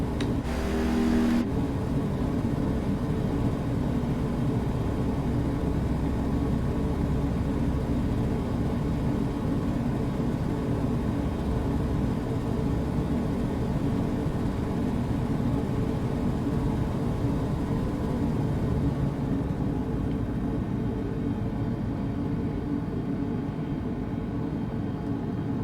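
An aircraft lands in Microsoft Flight Simulator at Rarotonga, a steady droning engine rumble and whine that holds evenly for about twenty-five seconds, with no talking.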